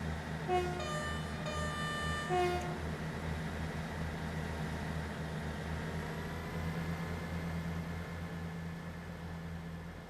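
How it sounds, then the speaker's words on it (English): A Class 158 diesel unit rolls into a station in Train Sim World 3 on the Midland Main Line, sounding a short two-tone horn blast early on over a steady engine rumble that continues as it draws in. "there's another 158 coming in at the station"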